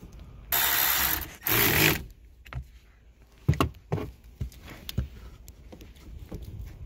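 Ratchet wrench with a 10 millimeter socket working on a 2013 BMW ActiveHybrid 3, two bursts of fast ratcheting clicks followed by scattered metallic taps and clunks, fairly close.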